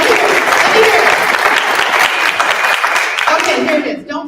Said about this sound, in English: Clap if you want to hear the secret.